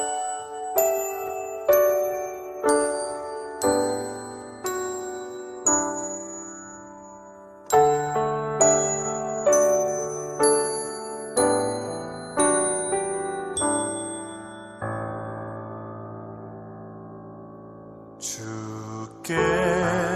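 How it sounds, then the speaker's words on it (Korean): Bells rung as a slow melody during a church evening service, each clear struck tone ringing out and decaying, with sustained chords toward the end. "다음은 사랑의 종소리입니다."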